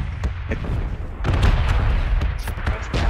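Gunfire from a video game crackles as a series of sharp, irregular shots and booms over a dense, noisy background, loud and close, with voices talking underneath.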